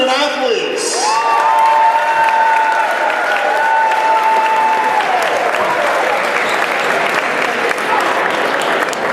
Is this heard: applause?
yes